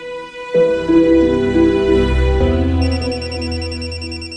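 A father's cellphone rings with a loud, close electronic ringtone melody that holds steady tones and then adds a pulsing warble near the end, with no talking over it.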